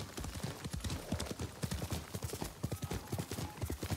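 Horse hooves clip-clop in a quick, steady rhythm in the video game Ghost of Tsushima, many close hoofbeats repeating throughout at moderate loudness.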